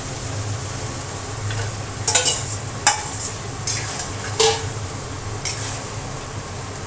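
Marinated chicken tipped into a pan of cooked-down spice paste, hissing loudly as a spatula scrapes and clinks against the pot in several sharp bursts over a continuous sizzle.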